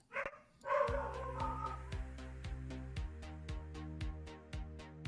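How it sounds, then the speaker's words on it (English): After a brief voice, dogs start barking in a quick, regular series, muffled and moderately distant. "I apologize for the dogs barking."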